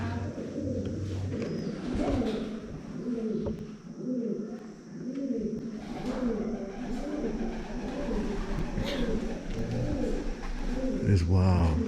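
Doves coo repeatedly in a soft, rhythmic series of low calls, close by in Hocking Hills State Park, Ohio, with a brief voice near the end.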